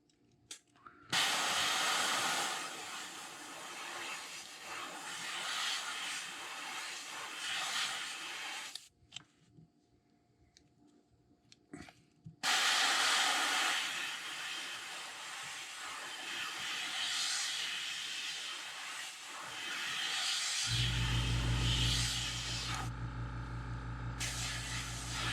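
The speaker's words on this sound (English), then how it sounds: "Oh, wrong airbrush." An airbrush sprays paint onto a custom neon bluegill fishing lure, a steady close hiss that starts and stops in long passes, then gives way to a lower, rougher blast near the end.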